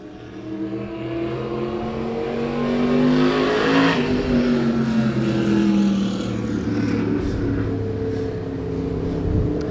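A race car cruising a victory lap at Claremont Motorsports Park, its engine droning steadily with tonal harmonics that swell and shift in pitch as it passes, loud and fairly near.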